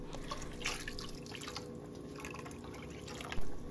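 Water poured into a pot of chickpea curry on a home stove, a faint continuous trickle and splash with soft drips, heard close against a low kitchen background hum.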